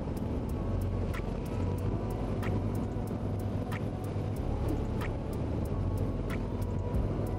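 A 2024 Harley-Davidson Freewheeler three-wheeled touring trike out on the road, its engine and road rumble a steady loud drone with wind noise and a regular faint ticking throughout.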